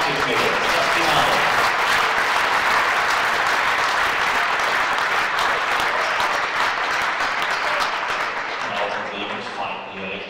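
Loud, sustained applause from a large badminton audience at the 2017 German Open, continuous clapping filling the hall for the full stretch and tapering slightly at the end.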